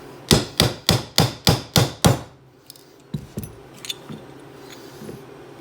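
A hammer strikes a roll pin into the frame of a SAR USA pistol with seven sharp, evenly spaced metallic taps. Fainter clicks and handling noises follow, close-up, with no talking.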